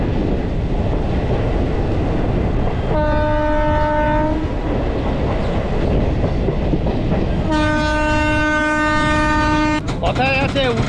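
Train horn sounding twice over continuous rumble and wheel noise as a train enters Santragachi station, a short blast followed by a longer one, loud and close, with a brief squeal at the end.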